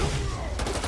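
Paparazzi open fire in Marvel's Spider-Man 2, a quick volley of gunshots at moderate distance, with a sharper cluster of cracks bursting in near the end amid busy game ambience.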